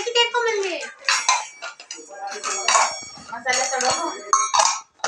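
Metal kitchen utensils, ladles and a spice box from a household cookware set clink and clatter in several quick bursts while a person talks over the handling.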